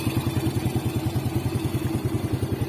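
A motorcycle engine running steadily with a rapid, even low-pitched chugging pulse, close and continuous, with slight mechanical clatter; the bike has a clutch problem and a stuck camshaft.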